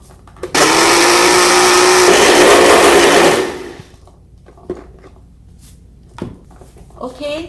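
A kitchen blender whirs loudly for about three seconds, then shuts off, leaving quiet room noise with a few faint knocks.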